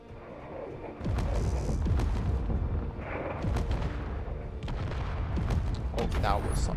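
A missile explosion in the video game Space Engineers booms heavily, followed by a sustained loud rumble and repeated blasts, while a person talks over the game audio.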